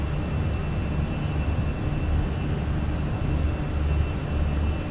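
Jet engines of a Fenix airliner in Microsoft Flight Simulator 2020 during the climb after takeoff, a steady broadband roar with a faint thin whine, even and unbroken throughout.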